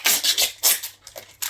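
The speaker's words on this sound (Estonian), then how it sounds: "Võtame kõik kiled ära." Protective plastic film being peeled off a newly unboxed item, a series of close scratchy rustles and rubbing strokes in irregular bursts, with no talking.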